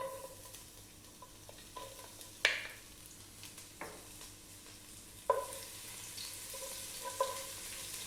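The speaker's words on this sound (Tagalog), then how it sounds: "Ang gagawin po natin, magigisa na po tayo. So, unahin po natin yung ating garlic." Garlic sautéing in oil in a cooking pot gives a faint, soft, continuous sizzle, with a few sharp clinks of a utensil against the pot scattered through it.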